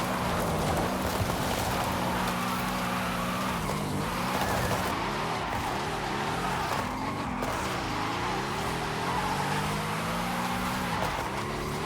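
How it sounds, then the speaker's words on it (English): A 2009 Mercedes-Benz SL 65 AMG Black Series, rear-wheel drive and upgraded, drifts in a video game: a continuous engine drone rises and dips in pitch under a steady wash of tire noise and squeal. "I love this car for drifting."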